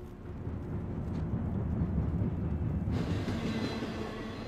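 Train rumbling past in a video game, a steady loud low roar of rolling wagons close by that thins out near the end, with no talk over it.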